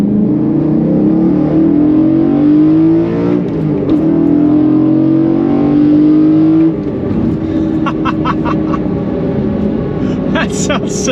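BMW E9X M3 with an Eventuri intake and exhaust valves open, driving on the road, engine droning and rising through revs, then easing off, loud and close to the car.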